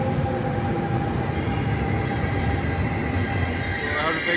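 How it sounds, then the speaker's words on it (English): A Paris RER commuter train rumbles past at Charles de Gaulle–Étoile station with a steady roar and rattling wheels, filling the space with broad low-frequency noise. "RER going opposite direction."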